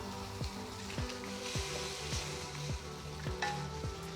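Garlic, ginger, spring onions and chili seeds stir-fry in a hot wok with peppercorns. A constant close sizzle is broken by regular metallic knocks of the utensil against the wok, roughly twice a second.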